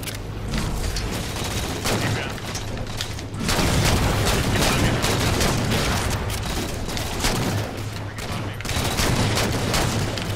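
Rapid gunfire from the Halo 4 video game in a custom multiplayer match, with dense bursts and booms running almost without a break, layered under voices talking.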